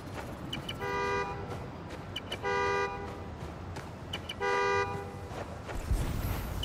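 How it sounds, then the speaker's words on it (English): In the Spider-Man: Miles Morales video game, a car horn honks in three long, evenly spaced blasts so the car can be located, moderately distant over a noisy city background. "Find the horn, find the car."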